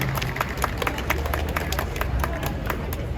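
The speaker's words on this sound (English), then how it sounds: "we should all give a huge round of applause to ourselves for coming out" A crowd at a student protest in Cardiff, South Wales, applauds steadily for a few seconds, with dense, fairly close clapping under a low murmur of voices.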